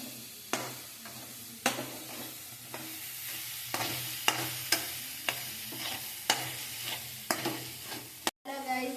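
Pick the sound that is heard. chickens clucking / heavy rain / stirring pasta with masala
stirring pasta with masala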